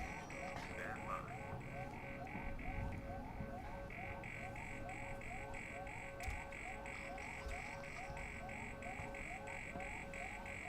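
Repeating electronic alarm from the Alien Isolation video game, a steady pulsing warble of beeps cycling evenly for several seconds, faint under low background rumble.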